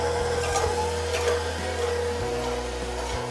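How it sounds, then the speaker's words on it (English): A stand mixer fitted with a whisk attachment beats cream on the way to homemade butter, giving a steady motor whir with a low hum that shifts pitch partway through, continuous and close with no talking. "you're just going to put this in your stand mixer with your whisk attachment, and you are going to beat this sucker."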